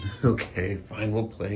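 A cat meows loudly and grumpily, mixed in with a person talking nearby; the cries overlap the speech in a few drawn-out bursts.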